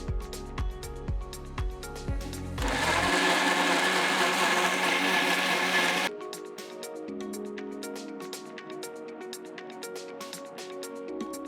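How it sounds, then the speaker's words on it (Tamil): An electric blender grinds mango with saffron-soaked milk into a smooth aamras pulp, a loud steady whir running for about three seconds between quieter kitchen sounds and light tapping, with no talking. "இப்போ இந்த குங்குமப்பூ சேர்த்த பாலை மாம்பழத்தோட சேர்த்து நல்லா ஸ்மூத்தாக அரைச்சி எடுத்துக்கோங்க."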